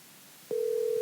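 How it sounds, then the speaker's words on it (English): A telephone line clicks on and a steady, fairly quiet dial tone sounds alone, holding unchanged for the rest of the moment. "Let's get him on the phone right now."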